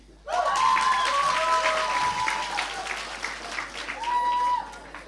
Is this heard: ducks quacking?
no